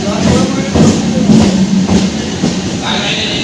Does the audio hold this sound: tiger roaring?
no